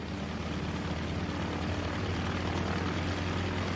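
Propeller aircraft engines drone in a steady, dense roar from World War II naval aviation, loud and continuous with no talk over them.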